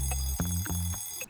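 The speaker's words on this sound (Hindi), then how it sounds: "अलार्म क्लॉक का शोर" An alarm clock rings at the start of an ordinary morning, a steady, droning electronic tone that pulses in quick repeated bursts, close and fairly loud with no voices.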